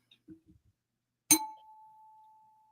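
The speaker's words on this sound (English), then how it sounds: "that's your notification you want" A single bright notification bell ding rings out clearly after a couple of faint soft taps, its pure tone sustaining and slowly fading for over a second with nothing else heard.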